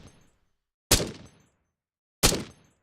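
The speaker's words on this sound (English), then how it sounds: "basically the gunfire part of the sound, the actual hit, the bit you'd identify most as the weapon" Soloed gunfire layer of the Doom chaingun in a video game: two sharp, loud isolated shots about a second apart, each a punchy crack with a short decaying tail, with a faint earlier hit trailing off at the start.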